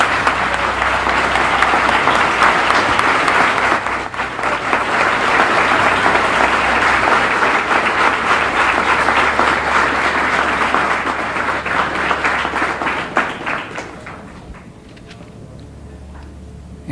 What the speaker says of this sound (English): Let us welcome our brother with a warm round of applause